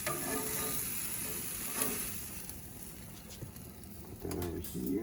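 Red snapper, a whitefish, frying in a hot pan with oil past the shimmer, giving a steady close sizzle throughout with a brief louder crackle near the end; a voice speaks faintly at times.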